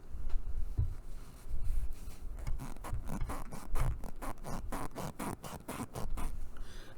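A plastic crochet hook rubs and drags through yarn loops right at the microphone, giving faint, quick scratchy strokes in a steady rhythm with no talking.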